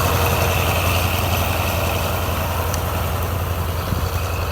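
A heavy YaMZ-238 diesel engine on a T-150 tractor discing a field drones steadily at a low, throbbing pitch, rumbling continuously close by with no speech over it.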